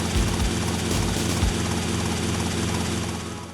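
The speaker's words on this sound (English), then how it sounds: "pilot helicopters" A helicopter in the video game GTA Vice City, its rotor chopping in a steady, heavy drone with a throbbing low pulse, close and loud throughout without any voices.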